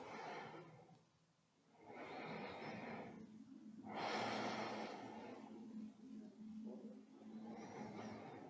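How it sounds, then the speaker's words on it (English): Slow, audible breaths during chair yoga, long airy inhales and exhales alternating in a steady rhythm, close and soft, each breath lasting a couple of seconds. "Remember of your breath, the inhales and the exhales."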